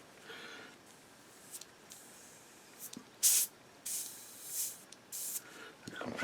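Short bursts of airbrush spray hiss as model paint is pushed from a compressor running at low pressure, several separate puffs of varying length, close and fairly quiet with a faint hiss between them.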